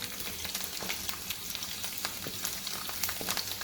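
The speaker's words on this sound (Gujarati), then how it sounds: "એ પહેલાં લસણને થોડું આપણે ચલાવી લઈએ." Garlic frying in hot oil in a pan, a dense, steady sizzle filling the background while a utensil scrapes and stirs through it, close and continuous, no talking.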